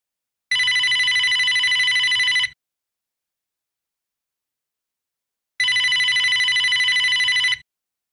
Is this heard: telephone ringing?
yes